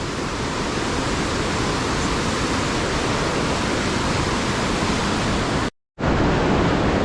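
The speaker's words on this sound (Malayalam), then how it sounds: "താഴെയൊക്കെ നല്ല രീതിയിൽ വെള്ളം ഒഴുകുന്നുണ്ട്." Rainbow Falls in Meghalaya roars with a loud, constant rush of falling water, unbroken except for a brief cut near the end.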